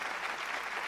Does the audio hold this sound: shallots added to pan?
no